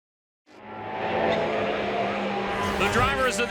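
Race cars of a sports car championship lapping the circuit at Canadian Tire Motorsport Park, with a sustained engine roar that rises in and holds steady, slightly distant, with a brief tire-squeal edge near the end.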